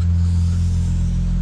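An Audi RS4 Avant idles steadily as it warms up, a constant low rumbling hum heard close and loud with no talking.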